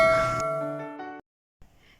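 Bright notification bell ding from a sound effect, a clear ringing tone that decays over about a second, cuts to silence, then a faint low rustle.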